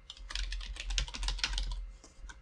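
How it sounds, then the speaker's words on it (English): Username being typed on a computer keyboard, a fast steady run of close key clicks with a few slower taps trailing off at the end. "we just simply type in our username"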